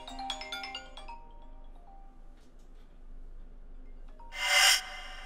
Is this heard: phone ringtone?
yes